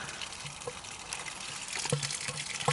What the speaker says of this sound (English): as you can see, the water's running out from that